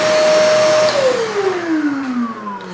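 A battery-operated wet/dry vacuum cleaner runs alone and close, holding a steady whine for about a second before its pitch slides steadily downward as the motor winds down.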